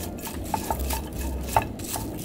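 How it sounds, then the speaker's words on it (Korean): Onions are stir-fried over high heat in a dry frying pan without oil, giving soft scraping and tapping from a utensil against the pan in a short, quiet run of irregular knocks. "프라이팬에 양파를 넣고 살짝 한번 볶아 줄 거예요."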